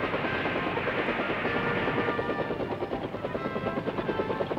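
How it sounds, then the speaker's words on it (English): An army helicopter gunship flies close by, its rotor blades thumping in a fast, steady chop over a loud engine whine, heard alone and without talk. "A fast helicopter gunship for close-in fire support."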